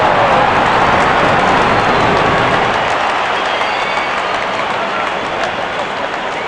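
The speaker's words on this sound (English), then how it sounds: "Wonderful 50, and the crowd applauds." A large cricket crowd applauds a batsman reaching fifty, loud sustained clapping and cheering from the stands that holds steady for several seconds before easing slightly.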